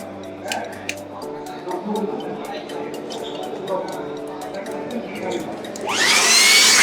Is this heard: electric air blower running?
yes